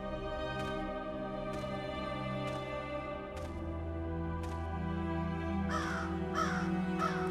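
Crows caw repeatedly in a cemetery horror video game, a series of harsh single calls spaced about a second apart over a steady droning music bed, growing a little louder and quicker toward the end.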